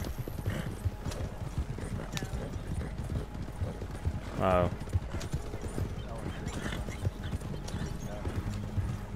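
Hooves of a horse clip-clop in a steady rhythm in the video game Red Dead Redemption 2. Someone talks over the footfalls and briefly voices a short exclamation.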